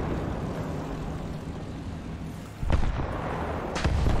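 A British tank's main gun in the War Thunder game fires, two heavy booming shots, one near 2.7 seconds and another near 3.8 seconds, each rising over a steady low engine rumble.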